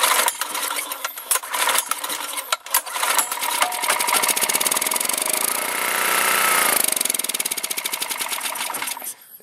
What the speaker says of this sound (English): We'll give it a pull and see if she starts and dies.